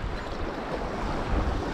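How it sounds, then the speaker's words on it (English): A steady head-on wind along a rocky coastline with boulders and kelp rushes and buffets the microphone as a constant broadband roar, with faint surf beneath and no voices. "So head-on wind's a bit of a pain."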